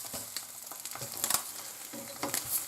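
Egg and bacon frying in a pan, a steady sizzle broken by sharper crackles and a few scraping clicks, with no talking.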